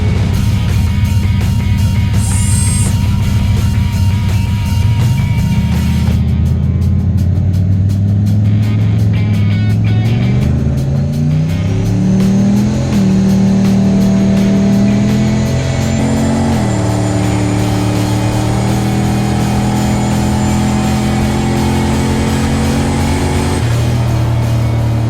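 A Chevrolet Malibu drag car nicknamed Maliboom makes a pass at LS Fest West, its engine loud and close as it revs up and climbs through several gear shifts, then holds a steady roar.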